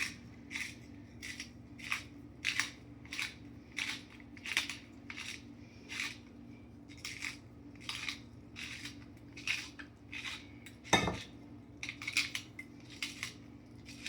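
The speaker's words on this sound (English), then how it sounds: "I'm going to do quite a bit of grinding here to get a 1/2 teaspoon." A black pepper grinder cranked for a long stretch, close and quiet, producing a steady run of rhythmic crunchy clicks and rasps over a low hum, with one louder knock near the end.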